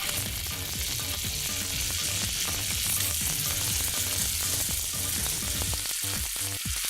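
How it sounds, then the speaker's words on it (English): Banana pieces sizzle loudly in a hot frying pan while cooking for banana flambe, a continuous dense crackle and hiss with faint scraping from stirring, no speech. "I'm not sure if it's supposed to sizzle this much."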